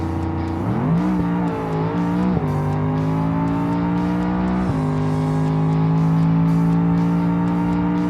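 A BeamNG game car with a 423 cubic inch Gavril Stage 3 performance engine and side pipes accelerates hard, its engine note climbing through gear shifts into a loud, sustained high-speed drone.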